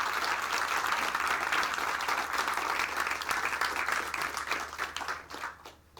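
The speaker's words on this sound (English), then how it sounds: "Let's give them all a big round of applause." An audience gives sustained, dense applause to a group of BAME writers working in the UK. The clapping stays loud and steady for several seconds, then thins out and fades toward the end.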